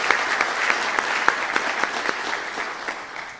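A banquet audience applauding, a steady wash of many hands clapping at moderate volume with some sharper individual claps standing out, tapering slightly at the end.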